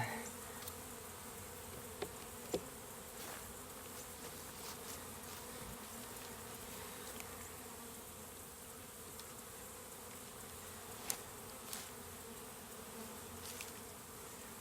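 A honey bee swarm being hived gives off a continuous, low, even buzz that stays faint and distant throughout, with a few small clicks and knocks.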